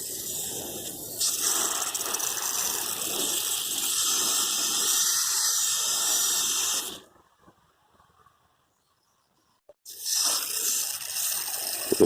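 Water spraying steadily from a hose onto a pumpkin bed at an allotment garden, a continuous broad hiss that cuts out abruptly for a few seconds of silence, then resumes.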